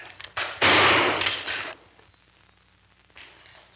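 A shotgun fires once at a clay target on a shooting outing, a loud close blast that rings out and decays over about a second, with a fainter thud a moment later.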